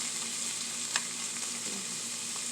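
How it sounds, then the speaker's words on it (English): Meat sautés in butter in a pan, producing a steady, moderately loud sizzle throughout with a brief stir or clink partway through. "Just saute for 2 to 3 minutes"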